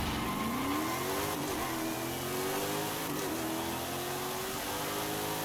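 Race car engine in a racing video game, fitted with a bigger, more powerful engine, revving steadily upward through gears with pitch climbing and dropping at each shift, loud and continuous with no talk.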